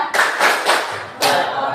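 Group hand clapping in a children's clap chant in an Indonesian classroom, bursts of several quick claps with short pauses between them, fairly loud and close, with no talking over them.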